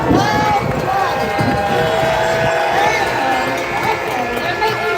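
Crowd at a No Kings political rally in Topeka, Kansas cheering and whooping, a loud, sustained roar of many voices filling the space from start to finish, with shouts rising above it.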